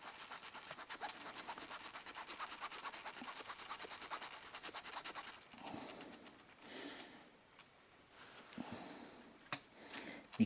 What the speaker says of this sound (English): And then just go like this to file it down a bit. Just back and forth. To get the bead down.